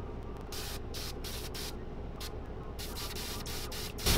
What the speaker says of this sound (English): we're coming straight at the bait with the spray.